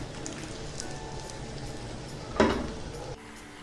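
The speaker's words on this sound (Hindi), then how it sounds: "मैं इसके ऊपर दूसरी रोटी भी फ्राई करने के लिए इसी तेल में रख दूँगी" A besan roti sizzles in hot oil in a home kitchen, giving a continuous rain-like crackling hiss, with a sharp clatter of utensils partway through before the sizzle drops quieter at the end.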